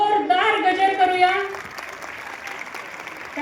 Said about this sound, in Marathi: आपण सगळ्यांनी पुन्हा एकदा टाळ्यांचा जोरदार गजर करूया